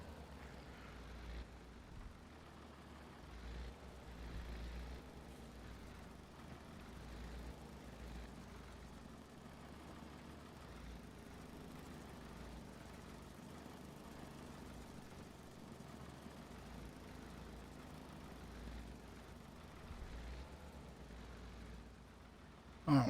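Tractor engine in Farming Simulator 22 runs at a steady low rumble throughout, a continuous idling drone at moderate distance with no voices over it.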